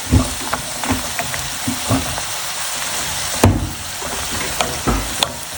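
Curry leaves and spice powder sizzle and crackle steadily in hot oil for a tempering, with sharp pops and spits breaking through every second or so, close up and without any talking.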